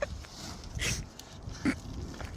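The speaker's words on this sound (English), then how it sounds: "Crazy dog." An excitable dog makes two brief close whimpers or yelps during potting work with soil for blueberry plants, over faint background rustling.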